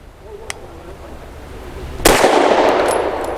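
A single sharp, loud pistol shot from a Walther PDP 4-inch compact firing Winchester ammunition at an outdoor range, preceded by a faint click and followed by a long ringing, decaying tail.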